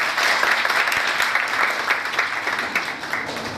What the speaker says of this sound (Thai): ขอเสียงปรบมือกับพี่พิริยะด้วยครับ